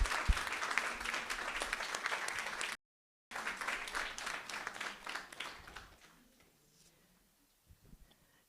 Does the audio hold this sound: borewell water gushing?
no